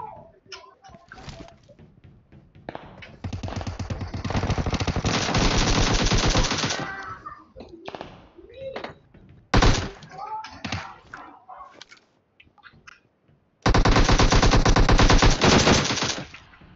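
Machine gun fire from a video game played on an iPad, several long loud sustained bursts separated by quieter gaps with shorter rattles and some game sounds between them.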